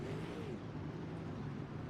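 Super Late Model race cars accelerate on a restart at Eldora, a rising engine drone that sounds fairly distant and subdued, holding steady across the short stretch.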